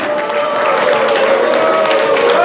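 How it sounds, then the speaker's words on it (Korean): Audience applause at a women's political league chapter ceremony, sustained and dense throughout, with cheering mixed in and no clear pauses. "큰 박수와 함께 한번더 한번 질러주세요."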